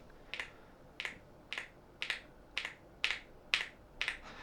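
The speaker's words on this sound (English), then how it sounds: "let me get close to the keyboard and I'll press some keys so you guys can hear how it sounds" Keys on a YUNZII AL98 mechanical keyboard are pressed one at a time, close up, giving nine crisp, evenly spaced clacks about half a second apart against a quiet background.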